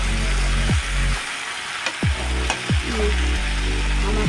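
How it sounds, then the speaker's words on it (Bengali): Meat for a spicy curry is sautéed in a pan. Rhythmic spatula scrapes and stirring strokes repeat every half second or so over a steady close sizzle, with no voices. "ভালো করে এখন মাংসটা কষিয়ে নেব।"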